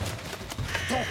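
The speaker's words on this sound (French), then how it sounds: "Corbeau!" A crow caws in a short, harsh burst, heard close and brief in the Yakari cartoon.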